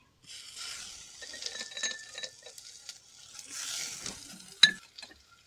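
Ground turmeric, spices and chopped tomato fry quietly in a pan for a prawn curry with yam stalks, a soft steady sizzle broken by stirring scrapes and one sharp metallic clink near the end.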